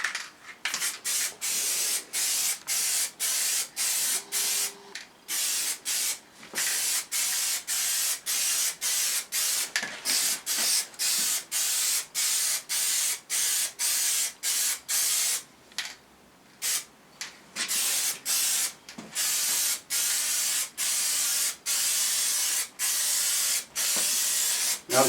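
Aerosol can spraying a third coat of Plasti Dip onto a test piece, with repeated close hissing bursts broken by brief pauses in a steady rhythm.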